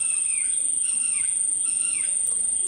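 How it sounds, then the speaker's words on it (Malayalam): Birds chirp at night in a home garden, repeated thin calls sounding fairly close over a steady high insect-like drone. "കിളികളെ സൗണ്ടൊക്കെ വരുന്നുണ്ട്."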